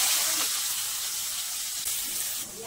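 Chopped onions hit hot oil with bay leaf in a pan over a high gas flame, producing a loud, continuous hissing sizzle that stays close and steady before easing slightly at the end.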